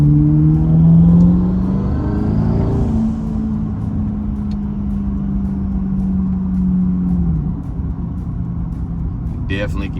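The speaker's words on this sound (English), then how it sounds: "Definitely can hear those blow-off valves," A twin-turbo Corvette E-Ray in manual mode accelerates under a bridge, its engine droning loud and close with a steady rising tone, and a sharp hiss of the blow-off valves breaks in near the end.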